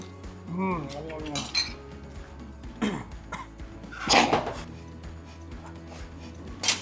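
A few coughs and throat clearing from spicy cooking break out amid light kitchen clatter, with some speech mixed in.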